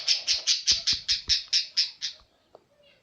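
A pet parrot gives about ten loud, evenly spaced squawks in a rapid rhythmic series close to the microphone, then falls quiet apart from a faint click.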